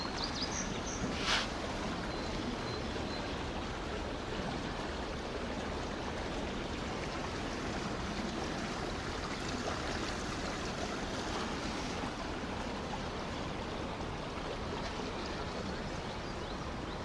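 Floodwater of the Salgir river rushes over its banks in a park, a steady broadband roar of flowing water that stays constant throughout with no voices.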